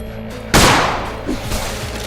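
A 20 gauge shotgun goes off once outdoors, a single loud blast that rolls away into a lingering echo.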